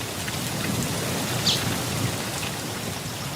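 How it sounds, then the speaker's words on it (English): Steady rain falls with a low distant rumble of thunder beneath it, a continuous wash of drops with one brief brighter splash near the middle, no voices present. "Said young Springbok as the rain began to fall."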